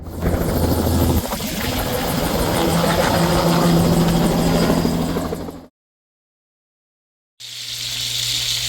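A helicopter flies over a farm in Canada, its loud steady rotor and engine roar holding for several seconds, cutting out briefly, then resuming.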